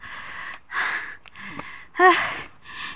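A hiker on a mossy rocky trail pants heavily, five loud breathy gasps in a steady rhythm, close to the microphone.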